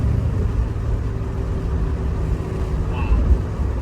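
Engine of a 1957 Chevrolet show car idling and running with a steady low rumble, close and constant, with no clear gear change standing out.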